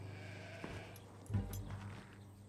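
Sheep bleating at a shearing session, a couple of short bleats over a low steady background hum, fairly faint with no talk.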